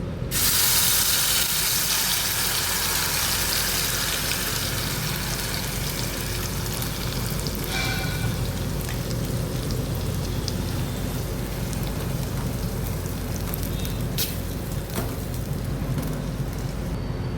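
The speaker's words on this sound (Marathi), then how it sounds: "तेल गरम झाले की यामध्ये आपण तयार केलेले वाटण घालूया." Biryani spice paste sizzling and spattering in hot oil in an aluminium pot, a steady loud hiss with crackling that starts abruptly and holds evenly throughout.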